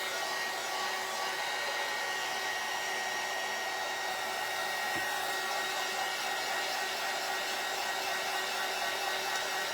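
A hair dryer blows steadily and loudly on a craft gourd piece, a constant whooshing roar with no pauses.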